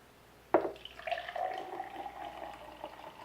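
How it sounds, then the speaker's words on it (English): Green chlorophyll drink poured from a container into a cup at home, a brief splash at the start followed by a steady, close trickle of liquid filling the cup. "I'm going to pour me a cup."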